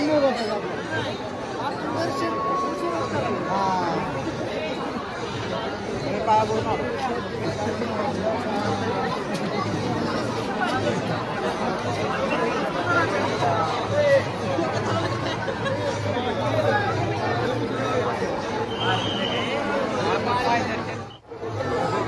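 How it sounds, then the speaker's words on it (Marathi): Crowd of devotees gathered for darshan at the Sangoba temple on Mahashivratri, a dense continuous babble of many voices nearby, steady and loud, with a brief thump near the end. "दर्शनासाठी इथे मोठ्या प्रमाणामध्ये भाविक भक्तांची गर्दी झालेली आहे"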